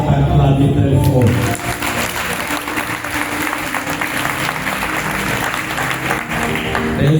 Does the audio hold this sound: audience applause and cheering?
yes